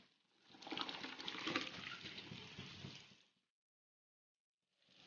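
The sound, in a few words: water boiling in a pot for cooking rice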